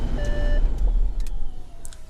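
Audi A6 door-open warning chime: a short steady electronic tone that sounds twice in quick succession near the start, clear over a low idling engine rumble.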